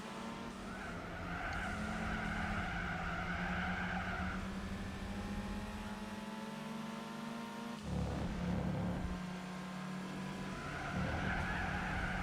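A race car in Gran Turismo 4 runs the reverse layout of Grand Valley East, its engine holding a steady, loud drone while the tires skid and squeal through understeer. A short lift near the end is followed by the drone returning.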